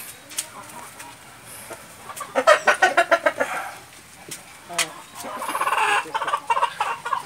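Six-year-old giant Indian rooster, painted variety, clucking in rapid rhythmic bursts, then a longer raspy call, close by with faint background noise.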